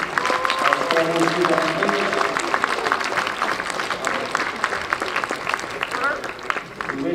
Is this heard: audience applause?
yes